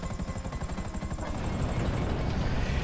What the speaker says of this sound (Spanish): Madre mía, los helicópteros que hay aquí.